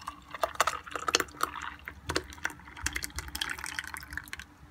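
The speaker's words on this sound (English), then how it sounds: "Now pour the milkshake in the glass." Thick Oreo and Nutella milkshake being poured from a juicer jar into a glass, heard close up as wet glugging and splashing in irregular bursts, with nobody speaking.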